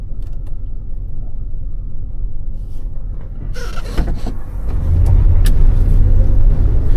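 A 1970 Chevelle Malibu with a 350 engine rumbles steadily from inside the car, then the engine note swells and grows louder as it accelerates, with a few rattles and clunks and no talk.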